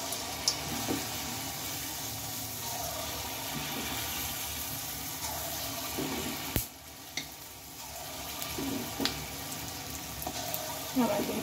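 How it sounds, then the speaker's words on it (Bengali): Palm fritter batter fries in hot oil over a low gas flame, a steady close sizzle with soft bubbling, a few small clinks and splashes as batter drops in, and quiet background noise. "দেখো ব্যাটারটা আমি হাতে নেব আর এই তেলের উপরে আমি দেব।"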